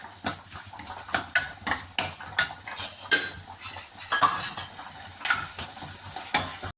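A spoon scrapes and stirs steadily around a pan while tomato masala sizzles underneath, loud, close, and rhythmic with no talking.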